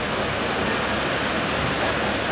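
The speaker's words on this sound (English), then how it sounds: "it's a pretty impressive amount of water flowing through there" Strong tidal current rushing through a deep channel in the Bay of Fundy, a steady, dense roar of moving water that holds constant and loud without pause.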